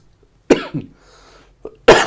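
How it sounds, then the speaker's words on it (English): A few sharp, close coughs, two strong bursts separated by a brief pause with a smaller cough between, loud against a quiet background. "excuse me, I had got a cough."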